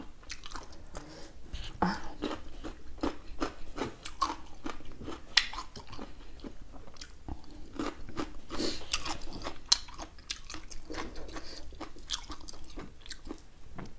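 Chewing on fresh curry, with steady crunchy bites and mouth noises repeating close up, with faint background sounds throughout.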